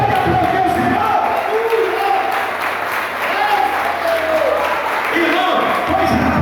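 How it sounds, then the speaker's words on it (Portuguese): A church congregation at a Lord's Supper service applauds loudly in a full, steady roar of clapping, with cheers and shouted voices mixed through it. "Você pode aplaudir o Senhor?"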